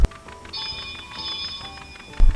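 A garden railway model locomotive's bell rings in a steady tonal pattern for about two seconds, with a louder thump or clunk at the start and end.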